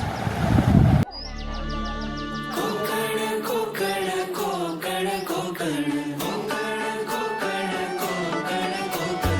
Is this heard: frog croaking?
no